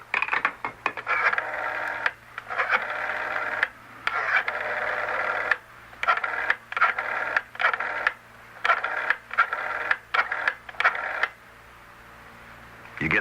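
Telephone keypad tones dial a toll-free 800 number in a radio drama, a quick run of short beeps under an indoor hum, with brief gaps between bursts and no talk over them.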